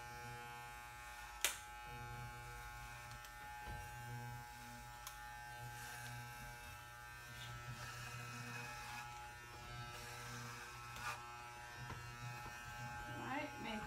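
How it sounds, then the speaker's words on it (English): Electric hair clippers buzz steadily through a barber state board haircut, a close continuous hum with slight changes in tone as they are forced through the hair, under a quiet background. "I can force that hair into the clipper"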